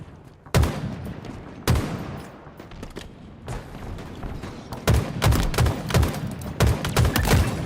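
Gunfire from a Halo match is heard as heavy shots and then rapid strings of repeated shots, loud and punchy with thuds underneath, growing denser toward the end.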